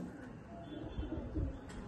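Pigeons kept at a home loft coo softly in a few low, throaty pulses, faint and close, with a quiet background hum.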